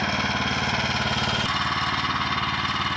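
The small gas engine of a Woodland Mills HM122 sawmill runs steadily and loudly at close range, a pulsing mechanical drone with a slight change in tone midway, with no voices.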